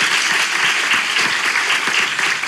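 Studio audience applause at the close of a Turkish relationship-quiz show episode, dense and steady throughout, loud and continuous with no voices standing out.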